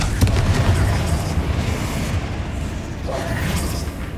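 Confringo fire spell in Hogwarts Legacy going off as a deep booming blast near the start, followed by a rumbling, crackling tail and a smaller burst toward the end.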